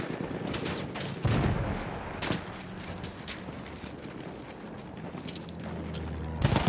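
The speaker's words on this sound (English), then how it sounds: "Am I getting shot by the goddamn blimp?" Sustained gunfire from an airship in the World War I shooter Battlefield 1, a dense crackle of rapid shots and bursts filling the whole stretch, with a heavier blast near the start and another at the end.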